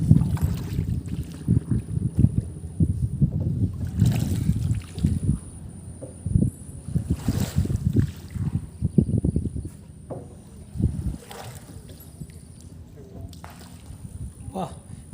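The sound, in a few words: boat ride on river under bridge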